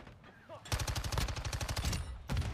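An MX9 submachine gun in Call of Duty MW2 fires in rapid bursts, a fast close-up rattle of shots in two runs, with a brief voice heard before the firing starts.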